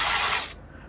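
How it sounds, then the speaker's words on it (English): A ratchet wrench with a 10 mm socket loosens a bolt on a 2013 Nissan Altima 2.5 during radiator fan work, a brief close rasping burst of rapid clicks that cuts off after half a second. "So remove the bolt. This bolt right here."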